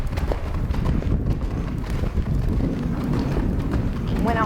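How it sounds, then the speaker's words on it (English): A horse canters with hooves clip-clopping in a quick rhythmic beat over gusty wind noise. "When a horse transitions from the trot to the canter, or even from a walk to the canter, we do call it a transition"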